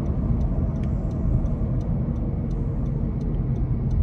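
A 2017 Honda Civic EX-T with 113,000 miles accelerates with a slight transmission shudder. Its engine and road noise form a steady, loud, low rumble heard from inside the cabin, with faint ticking above it.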